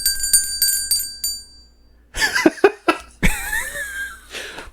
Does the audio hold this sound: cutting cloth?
no